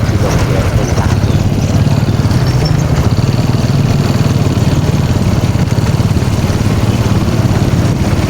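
A motorcycle engine runs loud and steady for the whole stretch, with a constant low throbbing drone and road rumble, close up and with no voices.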